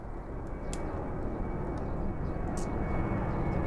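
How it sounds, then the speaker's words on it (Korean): An airplane takes off directly overhead, a loud, steady, broadband engine roar that fills the whole stretch without letup. "비행기 이륙하는 바로 머리로 지나갑니다."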